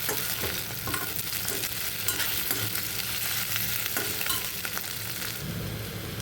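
Grated ginger cooking in an oiled pan for a bread upma with sprouts: a close, continuous sizzle broken by frequent scraping strokes of a spoon stirring, with no voices.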